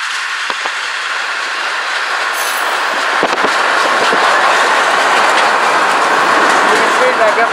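An empty BNSF military train rolls past on the rails, a loud continuous roar of wheels with clickety-clack and squeal, heard up close from a moving vehicle throughout.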